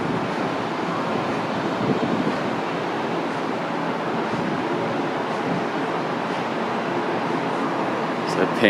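Gulf of Mexico surf along Seawall Boulevard in Galveston, Texas, a steady broadband wash of waves that holds an even level throughout with no clear breaks between sets.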